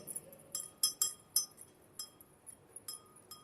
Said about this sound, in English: If we take a spoonful of sugar in a glass of water and stir it very well for a few minutes